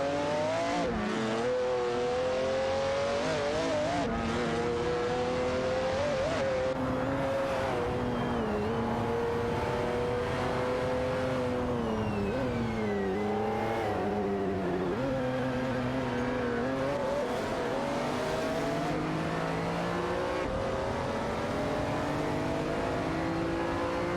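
Race cars in an AI racing video game, engines whining and revving through gear changes as several cars jostle and overtake, continuous layered motor drone with pitch sweeps and no talk.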